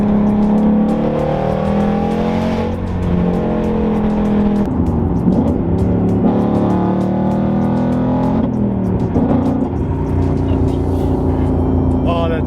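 A car engine revs hard and climbs through the gears, each upshift marked by a drop in pitch before the note rises again, loud and close over about twelve seconds.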